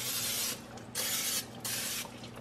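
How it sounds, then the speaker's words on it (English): Nonstick cooking spray hisses into a 9 by 13 inch baking pan in three short, close bursts separated by brief pauses, fairly quiet with no talk. "I'm gonna spray it really good"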